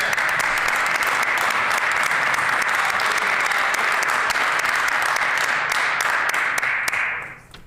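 Sustained applause fills the Manitoba legislative chamber, a dense, steady wash of many hands clapping at full strength for a minister before it tapers off at the end.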